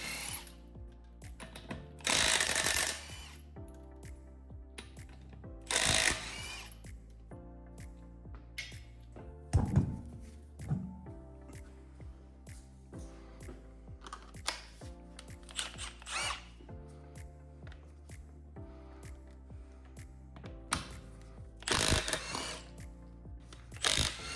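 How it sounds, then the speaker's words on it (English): A first-generation half-inch Milwaukee M12 stubby impact wrench hammers off 77 foot-pound lug nuts on a 2019 Toyota RAV4, in several loud, rattling bursts of a few seconds each, separated by quieter workshop handling noise. "we're going to use a first-gen half-inch M12 stubby, which will make short work of these 77 foot-pound lug nuts."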